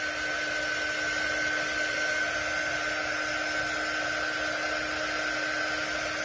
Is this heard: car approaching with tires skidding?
no